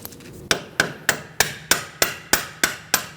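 Hammer blows drive bolts out through a punch on the front suspension of a 2008-2014 Mercedes-Benz C300 3.0L V6 during a CV axle job: nine sharp, evenly spaced metallic strikes about a third of a second apart, close and loud, no talking.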